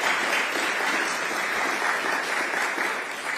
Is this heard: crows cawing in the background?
no